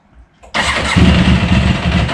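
An engine cranks briefly and then catches, bursting into a loud, close, steady running roar that continues to the end.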